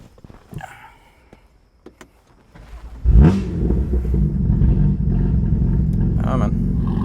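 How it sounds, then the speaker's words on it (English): A 600-horsepower BMW with almost 100,000 miles cranks and fires at about three seconds, its engine settling into a loud, steady, rumbling idle close by after quiet handling noises. "I'm gonna give you a quick startup on the car."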